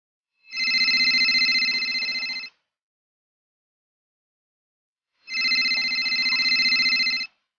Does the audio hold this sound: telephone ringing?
yes